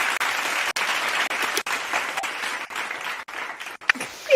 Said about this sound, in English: Round of applause for y'all as well